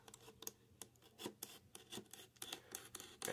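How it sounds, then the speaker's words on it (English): A blade cuts along the seam of toy figure packaging in quiet, short scratchy strokes, close and faint, with no talking. "so we'll just gently cut along the seam"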